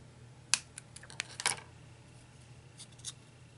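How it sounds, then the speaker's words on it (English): Scissors trimming paper for an accordion-fold lace-edged bow, a handful of crisp, close snips clustered together, then a couple of fainter cuts after a pause. "I'm just going to cut more so you don't have to see that hanging off."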